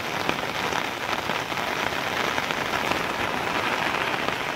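Heavy monsoon rain pours onto a pineapple farm, a dense, steady hiss of drops drumming on surfaces without pause, close and loud throughout.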